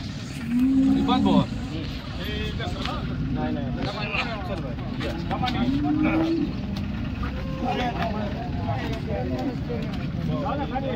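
Cows moo at a busy cattle market in Modnimb, with a couple of clear moos standing out over a dense crowd of talking people and general market bustle.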